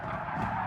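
A brief, continuous tire screech in Gran Turismo Sport as a car brakes hard for a turn, with engine hum beneath it, at moderate loudness.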